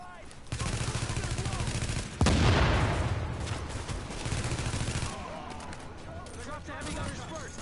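Hostile gunfire in the video game The Division, bursts of automatic shots from enemy attackers in Brooklyn, with a loud blast-like surge partway through and voices talking over the steady firing.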